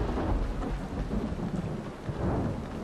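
Steady rain with a low thunder rumble in the zombie video game Dying Light, a dense continuous wash of downpour with deep rolling swells underneath and no speech.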